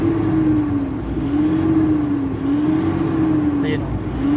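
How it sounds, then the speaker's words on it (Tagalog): A Toyota Fortuner 3.0 diesel engine idles with a vibration fault, giving a steady low hum with a slowly wavering drone pitch. Someone talks over it throughout, and a faint brief chirp sounds near the end. "nanginginig yung makina at RPM ng ano"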